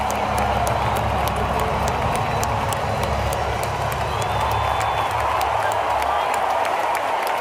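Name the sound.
Super Bowl crowd cheering for Donald Trump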